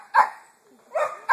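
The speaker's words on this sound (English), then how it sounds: "Pixie, I hear you barking." A dog barks close by, two sharp barks about a second apart, then the start of a third.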